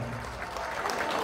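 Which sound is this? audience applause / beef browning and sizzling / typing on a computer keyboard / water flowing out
audience applause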